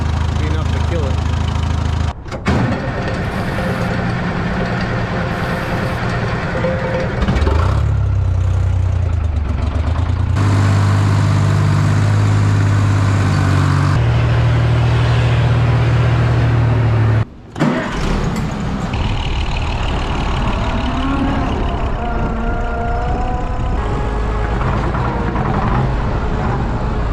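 An Oliver tractor engine running with the gas turned off, a steady mid-pitched rumble close by that labours and changes pitch, with a brief cutout, while someone talks over it.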